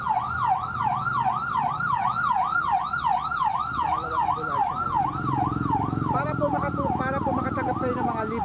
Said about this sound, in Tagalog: pangalawang ambulansya na yun.